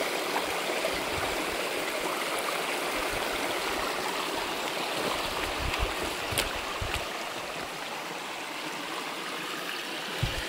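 A shallow, roughly knee-deep stream where clothes are washed rushes and gurgles steadily, a dense broadband wash of flowing water that stays close and constant throughout with no voices.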